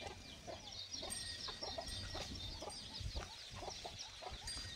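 Village free-range hens and chicks at a field-side farm shelter cluck faintly and at a distance in scattered, overlapping calls against steady background noise, with no voices.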